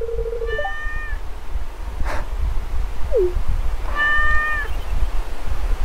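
Cartoonish cat meows from the Stardew Valley video game, two drawn-out mewing calls separated by a short gap, with a few small game sound effects in between over a low background rumble.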